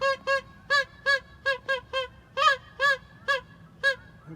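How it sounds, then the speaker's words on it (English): A flock of geese honking outdoors, loud repeated nasal calls in quick rhythmic bursts, some overlapping, with no talk over them. "Can you get the geese in?"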